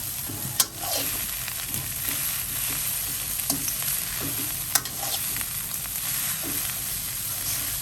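Salted fish fried rice with chili stir-fried in a pan, a continuous sizzle broken by rhythmic scraping and tossing strokes, with two sharp clanks of the utensil against the pan.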